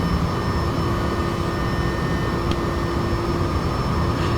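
Bell 429 helicopter engine in the X-Plane 11 flight simulator, a steady loud turbine drone with a constant high whine and low rumble running without a break throughout.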